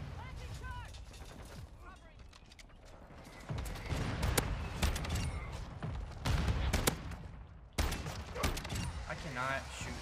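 Shotgun blasts ring out in Call of Duty Modern Warfare 2, several sharp bursts in irregular clusters with mechanical clatter between them over a busy game soundscape.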